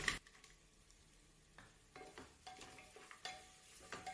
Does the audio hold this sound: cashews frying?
yes